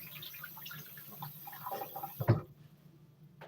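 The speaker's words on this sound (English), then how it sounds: "So with the sugar, I'm going to rinse off the spoon." Tap water runs over a spoon as it is rinsed at a kitchen sink during bread-making, soft splashing and trickling that swells into a brief louder splash near the end before the flow drops off.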